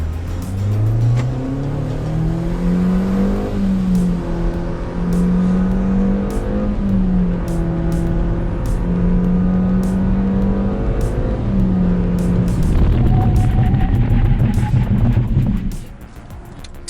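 A 2019 Nissan Kicks accelerates hard on an empty frontage road, its engine droning and rising in pitch through several gear changes before cutting off abruptly near the end.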